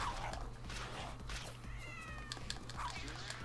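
A cat meows in the video game Tokyo Jungle, a couple of short rising cries over a steady low game hum and background noise, with nearby talk-like sounds mixed in.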